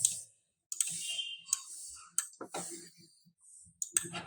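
Sharp, sparse computer mouse clicks while drawing with the pen tool in Adobe Illustrator, with irregular single and paired clicks separated by quiet gaps.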